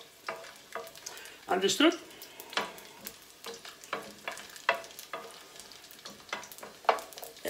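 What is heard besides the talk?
garlic frying and being stirred in a pan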